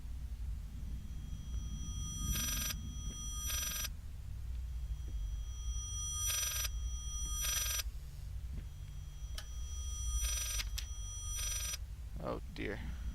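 A telephone rings inside the Layers of Fear game, repeating in paired bursts of bright bell tones spaced a few seconds apart over a low ambient drone.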